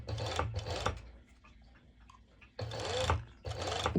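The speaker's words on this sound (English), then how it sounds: "I'm going to go directly to my serger and serge over." A serger overlocks a side seam on a pair of sewn bottoms, running in two loud bursts, a pause of soft fabric handling, then two more bursts.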